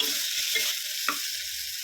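Tomatoes with a pinch of turmeric stirred in a hot pan, a spoon scraping in a few short soft strokes over a steady close sizzle.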